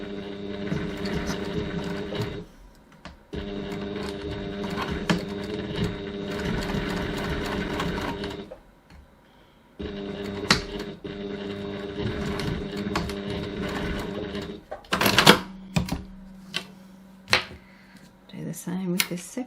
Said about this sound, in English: I'm going to use my zipper foot to do that. And stitch.